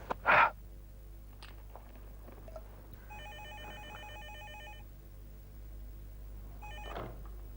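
A telephone rings in a quiet room with a low hum, sounding two separate bursts of its repeating electronic trill, one long and one short, at moderate distance with no talk over it.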